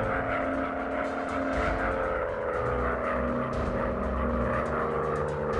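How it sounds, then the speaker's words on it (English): Propeller aircraft engines drone steadily and loudly in the WWI combat flight game Warplanes: WW1 Sky Aces as enemy bombers approach, a continuous layered roar with no talk. "Enemy bombers approaching."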